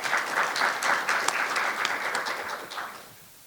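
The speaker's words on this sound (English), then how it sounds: "Please give a round of applause." A conference audience on journalism in the AI media era claps in a short burst of applause that tapers off over a few seconds.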